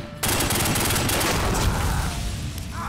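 Dense, continuous gunfire crackles through a gang-war shootout in The Godfather video game, loud and close, rattling like a sustained machine-gun burst with no pauses.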